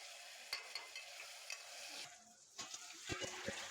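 Chicken pulao being stirred in a pressure cooker, soft scraping and clinking strokes of a spoon against the pot at irregular intervals over a faint background sizzle, quiet and close.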